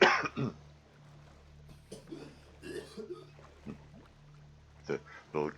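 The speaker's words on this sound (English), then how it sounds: "The little coughing, in-game coughing and choking sounds to remind me that the surface air isn't breathable." In the underwater survival game Subnautica, a character coughs and chokes on unbreathable surface air, rough throaty bursts at the start and again near the end, over a low ambient hum.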